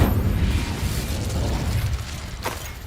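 The Incendio fire spell cast in Hogwarts Legacy, a loud low roaring whoosh of flame with a rumbling burst that fades, followed by a short sharp crackle near the end.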